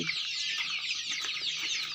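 Desi chicks and hens clucking and cheeping continuously and close up at a Punjabi poultry farm, a dense overlapping chorus of high chirps with no talk.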